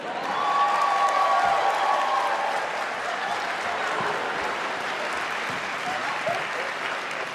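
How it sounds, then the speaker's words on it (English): An audience applauds steadily at an independent games festival awards ceremony, a dense, sustained wash of clapping from a large crowd that holds at full strength for several seconds, with a brief voice audible at the start. "Let's give a round of applause to Andy Schatz"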